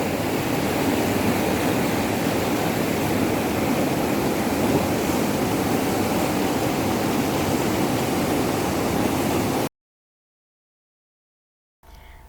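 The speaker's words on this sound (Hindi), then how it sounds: "तो फाइनली बारिश स्टार्ट हो गई और ये देखें अब सारे मज़ीद उनमें पानी बहना शुरू हो गया" Rain falling in the mountains around Naran and Kaghan with water running off the slopes, a dense, unbroken rushing hiss that is loud and close, then cuts abruptly to silence near the end.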